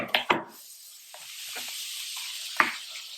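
Chopped onion and pepper for jambalaya sizzle in a pan, a steady close hiss broken by a few sharp clacks and stirring scrapes.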